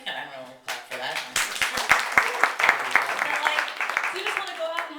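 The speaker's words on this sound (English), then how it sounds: "Yeah, you can have a clap for that." A small comedy-club audience gives a brief, scattered round of claps for a comedian, the claps thin and uneven beneath a voice talking over them.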